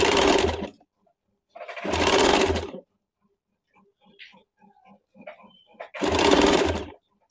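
A sewing machine stitches a neckline in three loud close bursts of rapid whirring separated by pauses, with faint soft handling noises between the runs and no voices.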